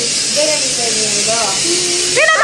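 A kitchen pressure cooker hisses steam in a loud, continuous jet that fills the room, while voices talk over it.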